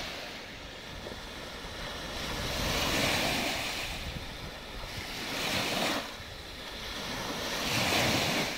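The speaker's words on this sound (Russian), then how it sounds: "Вот эти волны вообще поднялись ни с того ни с сего" Waves rolling onto the Volga river shore, loud surging washes that swell and recede in slow cycles under steady wind noise on the microphone.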